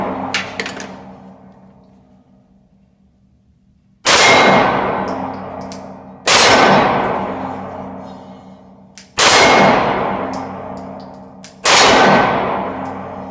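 Glock 43 pistol shots ring out on a steel target, four sharp loud clangs spaced about two seconds apart, each trailing off in a bright metallic ring, with a fainter cluster of hits at the start.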